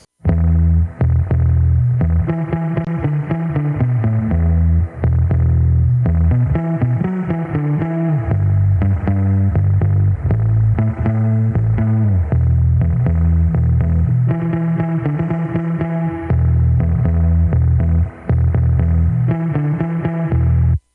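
Bass guitar plays a continuous melodic line drenched in splashy spring reverb, with a twangy, echoing, slightly distorted tone and no voices.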